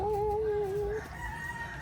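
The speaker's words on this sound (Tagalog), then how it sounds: "May manok, guys." A rooster crows once outdoors in a garden plot, a drawn-out, wavering call lasting about a second at moderate distance, followed by faint background noise.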